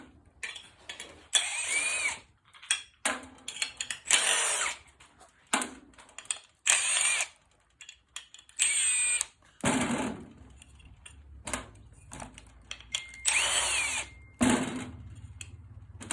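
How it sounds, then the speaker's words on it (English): Power drill backing screws out of Alumawood patio cover panels, repeated short bursts of high whining drilling with ratcheting clicks, separated by pauses, loud and close with no speech. "I get all these screws out."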